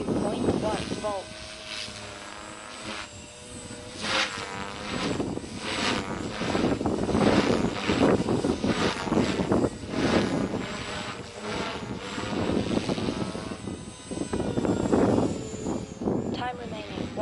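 A Beam Acro480 RC helicopter flies freestyle, its rotor and motor whine rising and falling in repeated surges as it swoops and climbs, loud and fairly close, with faint voice announcements in the background.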